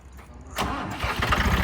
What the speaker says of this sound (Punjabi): ਜਦੀਪ ਐਂ ਕਰ ਵੀਰੇ ਮੜਾ ਇੱਕ ਵਾਰ ਸਟਾਰਟ ਕਰਕੇ ਦਿਖਾ ਦੇ